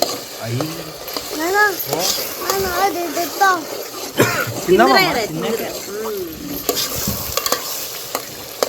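A spoon stirs ghee, semolina and milk halwa in a hot pan, giving steady scraping and bubbling sizzle up close while someone talks over it and a voice chimes in.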